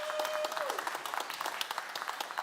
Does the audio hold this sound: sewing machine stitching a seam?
no